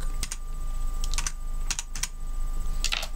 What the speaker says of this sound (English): You're going to click on search and you're going to simply type in TikTok.